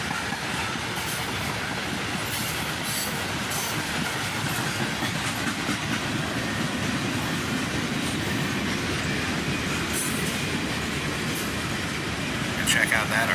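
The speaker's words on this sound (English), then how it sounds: "This was a fairly short train." A short CSX freight train rolls steadily past nearby, with continuous loud wheel rumble and rhythmic clickety-clack over the rails, plus faint squeals near the end.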